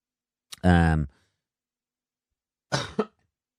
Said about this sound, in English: a bit of a cough coming out there